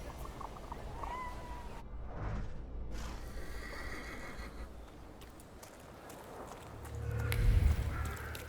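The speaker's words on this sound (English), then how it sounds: "I meant to take the horse out for a ride" A horse whinnies amid game ambience in The Thaumaturge, with hoof clops and a deep snort near the end, no talking.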